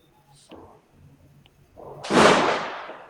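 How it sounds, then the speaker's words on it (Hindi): During celebrations, faint scattered pops come first, then one loud firecracker burst with a sharp crack and a decaying hiss, heard alone. "लोग काफी सेलिब्रेशंस में हैं और अभी भी पटाखे चल रहे हैं।"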